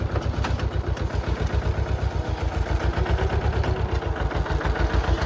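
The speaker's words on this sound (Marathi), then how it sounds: "लहान ट्रॅक्टरच्या साहाय्याने" Small tractor engine running in an orange orchard during sowing, a steady low chugging idle with rapid regular pulses and light clatter, fairly close and continuous throughout, with no talking.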